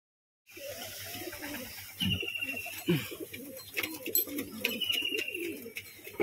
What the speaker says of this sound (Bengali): এখানে একটা বিস্কুট মাদি পায়রা, সাদার মধ্যে, চোখ সাদার মধ্যে, কাইচি করা।